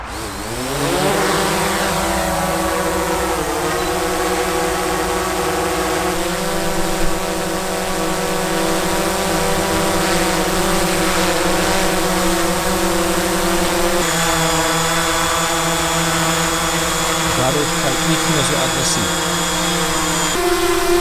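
Steady high-pitched whine of a DJI Mavic 2 Zoom drone's propellers hovering close by, with shifting tones as the rotors change speed, continuous and loud throughout.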